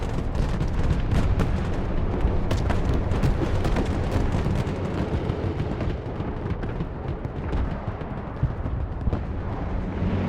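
Heavy artillery barrages pound continuously in a real-time strategy game battle, a dense, loud rumble of overlapping booms and blasts with no pauses, sustained throughout.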